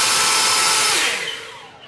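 An EGO leaf blower fitted with a stubby attachment roars with a loud, steady, airy whoosh close by, then begins to wind down and fade toward the end.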